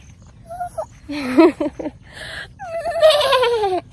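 A person imitates a goat's bleat with a few short wavering calls, then a longer drawn-out bleat, up close with brief laughter-like sounds between.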